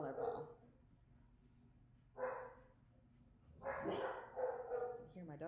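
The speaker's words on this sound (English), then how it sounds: "I hear my doggies." Several dogs bark in short bursts in the background of a home craft session, moderately loud, while a person talks over and between the barks.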